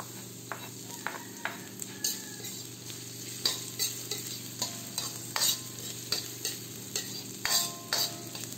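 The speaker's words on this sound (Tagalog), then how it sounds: "Pagkatapos ng 2 minuto, ilagay na natin ang hiniwang bawang." Sliced garlic sizzles steadily in a hot pan, with repeated scraping stirs and clinks of a utensil every second or so, close and moderately loud, no talking.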